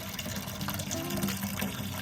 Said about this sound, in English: we're just gonna crack a beer, pour it in the bottom of here